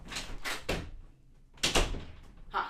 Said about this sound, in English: It's funny because they can only hear the door closing, but I didn't leave.